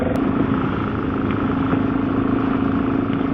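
BMW motorcycle riding on a wet road, a steady engine drone with wind and road rumble that holds continuous and fairly loud throughout, with no voices.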